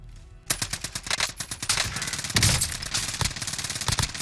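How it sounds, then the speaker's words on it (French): Call of Duty: Warzone firefight bursts in after a near-silent start, with rapid automatic gunfire and repeated loud shots that overlap into a continuous clattering barrage, no speech over it. "Ah, derrière nous, ça tire."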